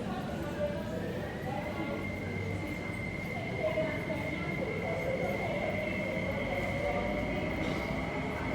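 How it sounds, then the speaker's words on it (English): A metro train rumbles into Diamond Hill Station, its steady whine and rolling noise building under faint background chatter and platform ambience. "The train to Wukaisha is arriving."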